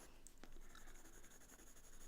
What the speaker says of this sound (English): I'm going to use a green pencil and just very gently